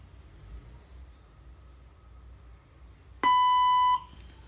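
A language translator robot sounds a single electronic beep prompt, a steady tone with bright harmonics lasting under a second, loud and clear after a stretch of quiet room noise.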